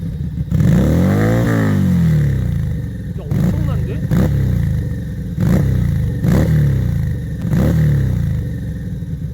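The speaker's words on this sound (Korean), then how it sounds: "이게 순정 배기음?" A classic Buccaneer motorcycle's stock exhaust revs up in one long sweep, then gives several sharp throttle blips at regular intervals while people react excitedly.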